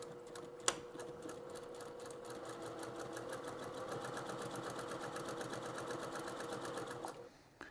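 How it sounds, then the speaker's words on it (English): A sewing machine stitches a quarter-inch quilt seam on an appliqué quilt in one steady, rapid, evenly pulsing run, close and fairly quiet, after a brief click at the start, then slows and stops near the end. "I'm going to sew this down like this, with that same 1/4 inch seam allowance"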